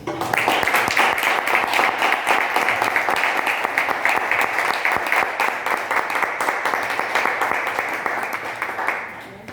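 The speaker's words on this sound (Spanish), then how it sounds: "muchísimas gracias y un fuerte aplauso" A hall audience at a historical-fiction book presentation breaks into sustained applause, a loud, even roar of many clapping hands with scattered cheers that carries for several seconds before tapering off at the end.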